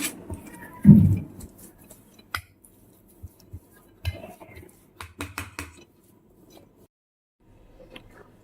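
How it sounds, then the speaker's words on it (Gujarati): Intermittent clanks and scrapes of a metal masher mashing boiled potatoes in a pot, with a few sharper taps and quiet pauses between. "હવે આપણે આ બટાકાને મેસરની મદદથી મેચ કરી લઈશું"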